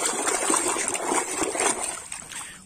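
Water splashes and trickles steadily while toy dinosaurs are being washed, a close, continuous wet patter.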